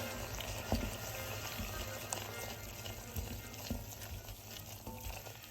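Flour being stirred into a hot pan for Canadian hot chicken sauce, a soft continuous sizzle with faint scraping strokes and occasional light clicks of the spoon, close and steady, no voices.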